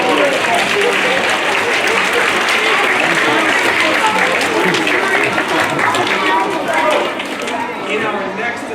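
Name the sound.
audience applause at elementary school assembly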